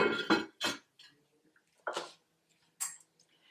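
A lid set onto a cooking pot in a home kitchen, several sharp metallic clinks and clanks spaced apart with quiet gaps between them.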